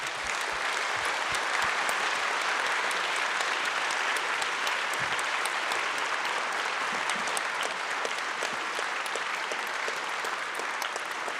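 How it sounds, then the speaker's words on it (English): Sustained audience applause after a panel discussion on education and science, a dense, even wash of many hands clapping, steady and fairly loud throughout. "I think you deserve a big applause."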